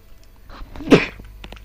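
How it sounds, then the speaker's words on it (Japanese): A single sharp sneeze, close and sudden, standing out briefly against a quiet background with faint soft noises around it. "すいません、ちょっとくしゃみが出ちゃいました。"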